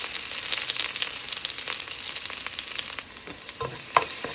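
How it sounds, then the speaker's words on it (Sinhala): Ginger and garlic frying in very hot oil for a spicy chicken curry, giving a steady, dense sizzle with a few sharper pops and spatters near the end, close and continuous with no talking. "මම ඉස්සල්ලාම ඉඟුරු සුදු ලුණු දානවා. තෙල් එක හොඳටම රත් වෙලා තියෙන්නේ."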